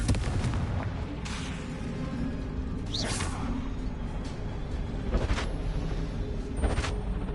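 Blasting-spell explosions in a video game, several booming bursts spaced a second or two apart over a steady rumbling background.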